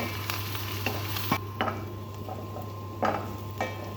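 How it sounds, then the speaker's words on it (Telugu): Onions, curry leaves, green chillies and ginger frying in a pan for bombay chutney, a quiet steady sizzle under a low hum with a few sharp spatula knocks against the pan, close, no talk. "ఉల్లిపాయలు వేసుకోవాలి కొంచెం కరివేపాకు పచ్చిమిర్చి అలా అల్లం ఇవన్నీ బాగా ఫ్రై చేసుకోవాలి"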